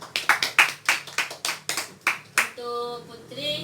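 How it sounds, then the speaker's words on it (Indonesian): Classroom applause for a student during a micro-teaching lesson: a run of sharp, rhythmic group claps in quick succession, close and loud, giving way to a brief sustained tonal sound at the end. "Tepuk tangan Salsa."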